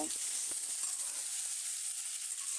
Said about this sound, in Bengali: সিমগুলো দিয়ে দিলাম আলুর সাথে সিমও আমি বেজে নেব